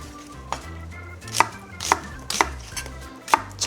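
Finely chopping onion with a knife on a cutting board, a series of sharp, crisp blade strikes at an irregular steady pace, close and fairly loud with no talking, while preparing a pear-and-onion blended marinade for braised short ribs.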